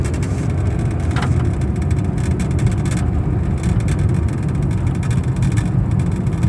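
A 1999 Ford Taurus with 79k miles drives along with a steady engine hum and road rumble from inside the cabin, loud and continuous with no talk.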